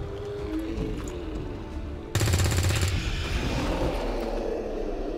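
Rapid automatic gunfire breaks out midway through the XCOM 2 video game soundtrack, a fast rattling burst over a steady rumbling game background.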